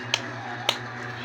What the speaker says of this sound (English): Let's give her 2 claps.